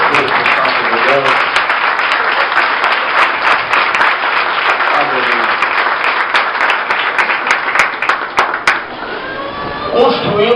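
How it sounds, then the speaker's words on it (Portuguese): Church congregation gives a long, warm round of applause to the Holy Spirit during a worship service, dense clapping filling the room for about nine seconds before thinning out, with voices calling out over it. "vamos dar uma calorosa salva de palmas ao Espírito Santo de Deus"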